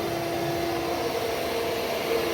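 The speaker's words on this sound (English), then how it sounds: "So we got a vacuum and we're vacuuming all that hay out of there." Shop vacuum sucking loose hay out of a broken 566 round baler, a steady close motor whine with airflow rush, continuous and unbroken with no talking.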